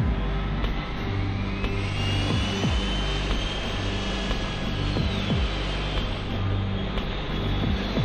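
A cartoon militia fighter spaceship flies past with a sustained jet-like roar, whooshing pitch sweeps and a low rumbling drone, loud and continuous.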